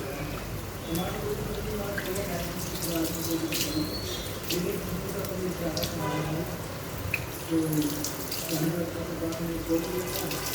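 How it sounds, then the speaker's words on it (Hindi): Tap water runs steadily into a kitchen sink as cooked pasta is rinsed. It is a continuous, moderately close splashing wash, and someone talks over it throughout. "पानी से वॉश कर लेते हैं, और इतना जो मैंने मैस बना दिया उसको धो लेते हैं"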